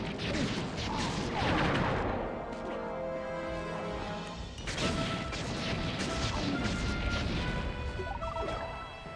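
During Mugshot's boss fight on a rooftop in Sly 3: Honor Among Thieves, a heavy gun barrage pounds away with dense crashing blasts and metallic clatter, loud and sustained, with faint talk mixed in.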